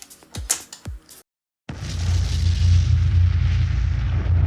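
A pressure cooker lid comes off after the pressure has been released, with a few sharp metallic clicks and scrapes, a brief pause, then a steady close hiss and rumble.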